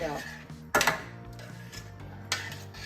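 Donne biryani rice being stirred and mixed in a pot, with a few sharp metallic scrapes and clanks of a utensil against the pot over a low steady hum.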